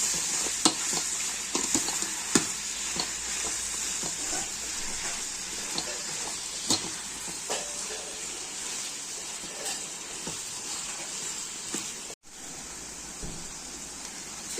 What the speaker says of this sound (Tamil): வெங்காயம் தக்காளி வந்து நல்லா வதங்கணும் இதுலேயே பூண்டு இஞ்சியும் சேர்த்துருக்கேன்